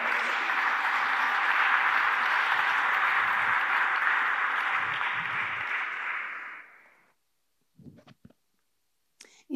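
Audience at a presentation of the new Porta Elisa stadium breaks into sustained applause, a dense wash of clapping that holds steady, fades out around seven seconds, then leaves a few faint scattered sounds.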